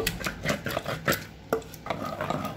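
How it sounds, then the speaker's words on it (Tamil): Cooked dal and manathakkali greens being mashed and churned in a pot, giving repeated soft scraping, stirring strokes with occasional clinks against the metal, close and moderately loud with no talking. "வேக வச்ச பருப்பு இதில் போட்டு நல்லா கடைஞ்சிக்கலாம்"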